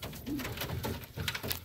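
A 12-year-old pedigree roller pigeon coos in its loft. Soft, low, rolling coos sit close over a steady wash of background noise.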